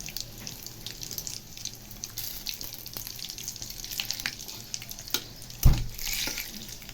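Radhuni seeds, torn dried red chilli and bay leaf crackle in hot oil in a pan, a soft, continuous sizzle with scattered pops and one louder clatter near the end.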